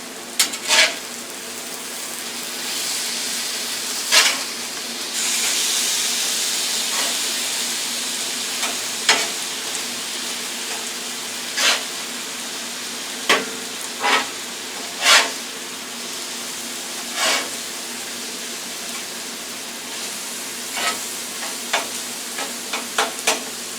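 Hash browns of potato with eggs and cheese sizzle steadily on a grill, a continuous close hiss broken by frequent sharp scrapes and taps of a spatula as the food is stirred and spread.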